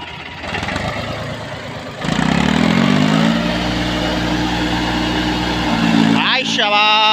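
A Mahindra Arjun 555 tractor strains to pull an 11-foot loaded trolley uphill through sand. The loud diesel drone surges after a couple of seconds and climbs in pitch near the end, with voices calling out over it.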